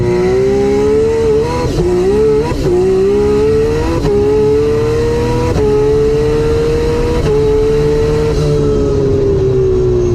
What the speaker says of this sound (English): And now we got it on street mode. Street mode, yes. Go for a little cruise.